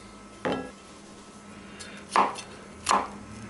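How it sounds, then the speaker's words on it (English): Three sharp knife strikes on a cutting board, spaced unevenly, as vegetables are roughly chopped for slow cooker baked beans; close and fairly loud over a steady low kitchen hum, no talk. "I got all these sliced up this way, and just a rough chop is good with this as well"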